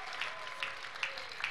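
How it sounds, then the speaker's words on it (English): Congregation at a church miracle service clapping for Jesus, a steady wash of applause with a few sharper claps standing out roughly every half second. "A big clap offering to Jesus."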